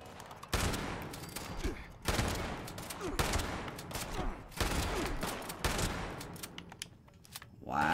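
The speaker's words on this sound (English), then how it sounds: "Where are you shooting from?" Rapid gunfire in Fallout 76, including 10mm pistol fire, crackles in dense repeated bursts with brief pauses between volleys, loud and close, with a voice speaking briefly over it.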